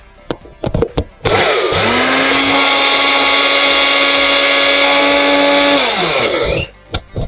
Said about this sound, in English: 1 to 2 teaspoons of flax seeds in a blender so that we can ground it properly